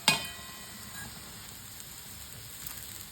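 Shallow frying in a pan over a low gas flame, a soft, faint sizzle throughout with a brief sharp clatter at the start.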